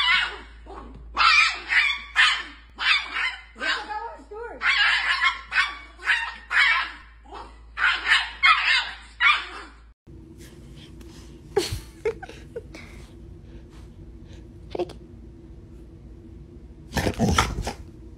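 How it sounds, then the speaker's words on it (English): Small dog yapping in a quick, rapid string of barks, close and fairly loud, then after a pause a few sharper isolated barks and yips over a steady low hum. "Bark at your dog. Woof!"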